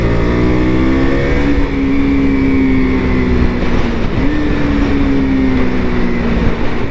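KTM RC 200 motorcycle engine drones loudly and steadily while riding, its pitch holding then dipping briefly before climbing again as the revs rise through a shift.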